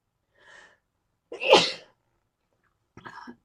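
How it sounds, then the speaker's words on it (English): A single loud sneeze up close, preceded by a soft intake of breath and followed by a brief quieter sound, otherwise silence. "I feel a sneeze coming on, guys."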